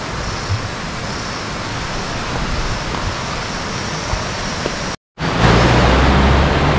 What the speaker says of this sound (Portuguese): Aqui na cachoeira.